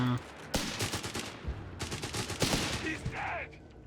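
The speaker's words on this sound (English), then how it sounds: "keep that in mind while using your strafing runs" Strafing-run gunfire from aircraft in the strategy game Company of Heroes 3, loud clattering bursts of automatic fire repeated in quick rows, with a whistling shell or engine sweep near the end under a busy battle mix.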